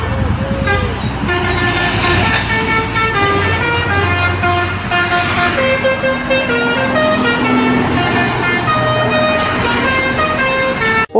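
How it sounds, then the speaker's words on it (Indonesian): A Sugeng Rahayu bus passes close by with a loud, sustained engine roar and a melodic multi-tone horn playing a tune throughout, with other traffic noise in the background. "Kali ini ada bus Sugeng Rahayu teman-teman."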